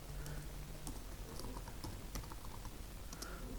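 Keys tapped on a computer keyboard while entering a Selenium WebDriver command in Java, a quiet run of irregular light clicks spread evenly over a few seconds against faint background hiss, with no voice.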